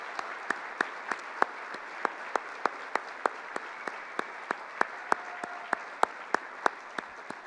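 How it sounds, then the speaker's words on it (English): Applause at an annual dinner, a soft background patter of many hands with one nearby clapper standing out in sharp, evenly spaced claps throughout. "Ladies and gentlemen, let's give her a big round of applause."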